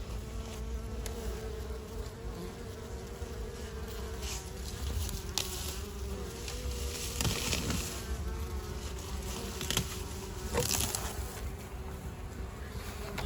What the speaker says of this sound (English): So you can see these black bees.